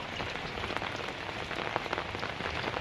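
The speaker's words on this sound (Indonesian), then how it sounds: "Masih hujan." Steady rain falling on grass outdoors, a dense even hiss of countless drops at moderate level, with no voices present.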